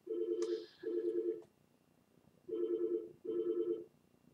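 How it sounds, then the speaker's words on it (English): A telephone rings in two double bursts of warbling tones, separated by a short pause, fairly faint and with no talking. "as the phone is ringing in the background"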